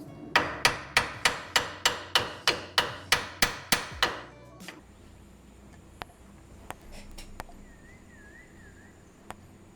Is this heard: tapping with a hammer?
yes